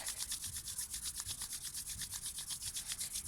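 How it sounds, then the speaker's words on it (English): Two palms rubbed briskly together to build warmth during a yoga eye exercise: a steady, rhythmic swishing friction with quick regular strokes, close and fairly soft, with no voices over it. "bringing the hands together, give them a bit of a rub, generating some heat"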